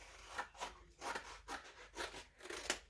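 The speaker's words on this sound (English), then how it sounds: "I just cut that portion of the card off with some scissors" Scissors snipping through strips of card, a series of short rasping cuts repeating in a steady rhythm, close and fairly quiet with no voices.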